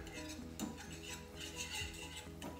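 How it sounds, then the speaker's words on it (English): Onions sauté in butter in a pan, heard as soft clinks and scrapes of a utensil against cookware over a faint low sizzle, close and quiet. "I'm going to saute my onions in the butter."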